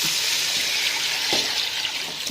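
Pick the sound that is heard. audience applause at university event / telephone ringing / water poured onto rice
water poured onto rice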